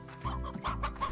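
Chickens in the Slime Rancher video game give several quick, close clucks in a loose rhythm over a constant low background drone.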